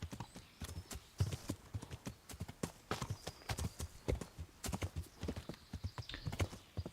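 Horse hooves clip-clop at a steady gallop in the medieval video game Kingdom Come: Deliverance, a rapid, close, loud run of hoof strikes with a brief whinny and faint game ambience behind.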